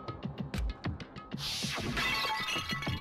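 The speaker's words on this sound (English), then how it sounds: "I grabbed the Monokuma bottle from the shelf and smashed it across her head" A Monokuma bottle smashes over someone's head in the Danganronpa video game, a sharp glass shatter followed by a bright, lingering spray of breaking shards, preceded by a series of short knocking hits.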